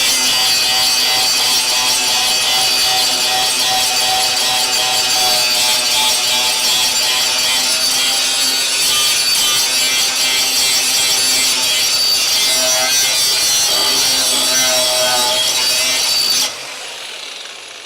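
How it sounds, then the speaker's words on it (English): A flap disc grinds the metal body of a Crew Cab Charger car in one loud, continuous, rough abrasive roar lasting about sixteen seconds, then cuts off abruptly. "Yeah, we could clean this with the flap."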